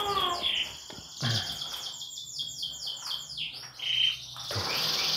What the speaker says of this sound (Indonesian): Tuh lihat burungnya tuh, anakannya tuh.